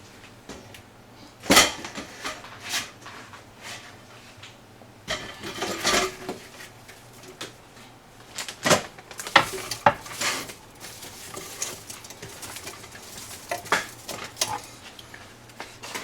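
About 8 pounds of Celeste Louisiana brown figs drop into a cooking pot, producing scattered soft thuds and clatters spread irregularly over a quiet stretch, some louder knocks among fainter taps.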